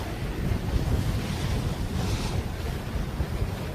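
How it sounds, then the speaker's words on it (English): Cold wind roars steadily across the microphone over open water during a sailing race in a squall, with waves and surf washing continuously beneath it and no voices. "And a bit of cold wind, James."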